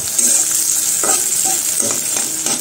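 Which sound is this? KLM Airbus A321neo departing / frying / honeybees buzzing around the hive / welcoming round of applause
frying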